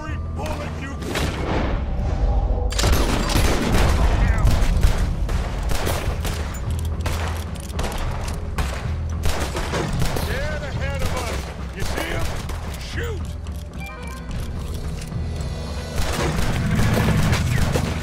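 Rapid gunfire and booming shots from a Red Dead Redemption 2 shootout, loud and dense bursts throughout, with a voice speaking over the clamor.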